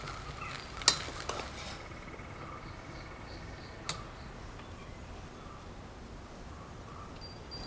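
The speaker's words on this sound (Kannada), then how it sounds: "ನಂತರ ಒಳ್ಳೆ ಮಿಕ್ಸ್ ಮಾಡಿ ಕೊಡಬೇಕು. ಮಿಕ್ಸ್ ಮಾಡುವಾಗ ಜಾಗ್ರತೆ ಮಾಡಿ ಮಿಕ್ಸ್ ಮಾಡಬೇಕು." A spoon stirs tomato rice made with basmati in a pot, a few sharp metal clinks and scrapes over a quiet low sizzle, close, with no talking.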